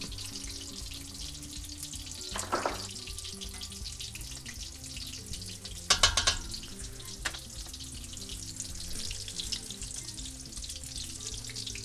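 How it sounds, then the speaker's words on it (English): Steady sizzling of chicken Parmesan pan frying, with a few louder clatters and spatters partway through; no talking. "I am now pan frying my chicken Parmesan"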